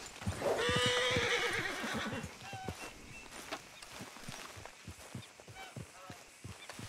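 A horse whinnies loudly near the start in the video game Red Dead Redemption 2, followed by a steady clip-clop of hooves and softer snorts continuing to the end.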